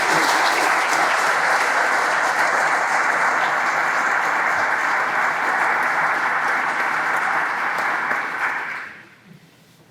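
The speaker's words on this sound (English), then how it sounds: "how about a round of applause for them, please?" Sustained applause from a crowd at a military change of command and retirement ceremony fills the space for several seconds, then fades out toward the end.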